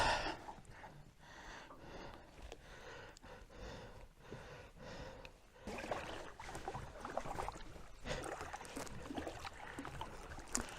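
A canoe or kayak is paddled in Voyageurs National Park, with soft splashing strokes and water sloshing close by. Heavy breathing runs throughout, and the sound gets busier in the second half.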